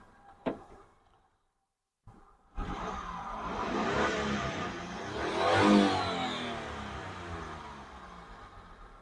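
A Hyundai EON Sports car engine revved with the accelerator, a brief blip and then, after a short silence, a strong rising rev that swells to a peak and eases off, close and loud, with no talk.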